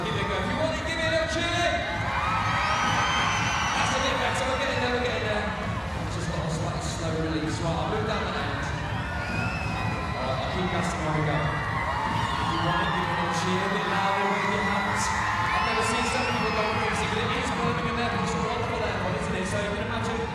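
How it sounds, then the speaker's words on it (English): Spectators at the 2023 FIG World Trampoline Gymnastics Championships cheer and shout in a dense, sustained roar through the arena, with a voice carrying over the noise. "If you want it, give it a cheer."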